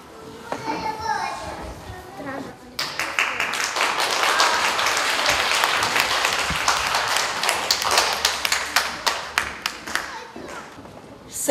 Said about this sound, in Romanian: Să-i mai aplaudăm o dată.